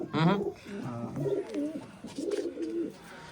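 Pigeons, big adult birds and this season's chicks kept by a fancier, coo in repeated throaty rolling calls, close and fairly loud, in three bursts with short pauses between.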